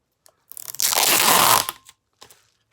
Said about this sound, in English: Now I'm going to tape it.